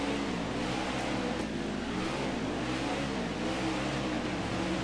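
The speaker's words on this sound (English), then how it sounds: "that was full throttle, okay? Because, listen to the engine" A racing truck engine in a racing video game held at full throttle, a steady loud droning roar with a slowly wavering pitch throughout.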